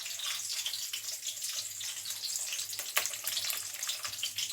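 Mixed vegetables and hilsa fish heads fry in a wok with a steady, close sizzling hiss that runs unbroken, with one small pop partway through and no talking.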